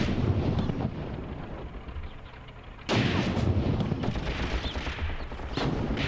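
Gunfire and explosive tank shots from a WWII armored battle set in 1943 Tunisia, a dense continuous roar with a sharp loud burst partway through and sustained rumbling blasts after, no talking.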